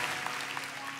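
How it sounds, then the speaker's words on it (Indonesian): A church congregation applauds in a brief, dense burst of many hands clapping together, steady and moderately loud throughout. "Kasih tepuk tangan untuk Tuhan."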